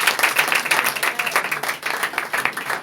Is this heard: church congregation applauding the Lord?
yes